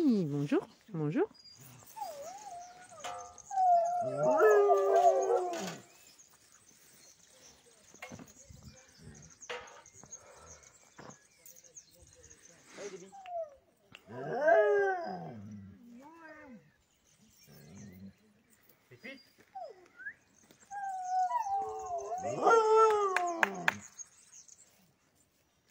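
Dogs whine and howl in three long wavering bursts with quiet gaps between, close by on a highland plateau, while someone talks to them in French.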